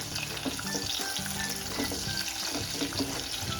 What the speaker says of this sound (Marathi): आता आपण लगेचच त्यामध्ये लांबट चिरलेला कांदा टाकायचा आहे. कांदा अगदी व्यवस्थित भाजून घ्यायचा आहे.